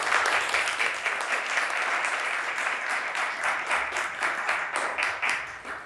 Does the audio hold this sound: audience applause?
yes